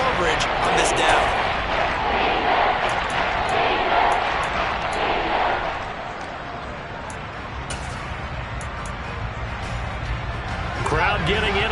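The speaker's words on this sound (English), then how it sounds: "Crowd getting in it a bit already." Steady, dense roar of a stadium crowd fills the Madden 22 football game ahead of a third down, a loud continuous wash that dips slightly midway and swells again.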